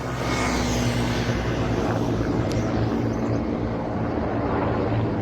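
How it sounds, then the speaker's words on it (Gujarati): A steady, continuous engine roar of two helicopters droning overhead at a distance above farm fields fills the air throughout, with no voices. "બે હેલિકોપ્ટર રખડે"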